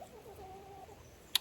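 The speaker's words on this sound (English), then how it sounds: "I can't make videos without chickens" A chicken gives a soft, brief cluck, faint against quiet background noise, followed by a sharp little click.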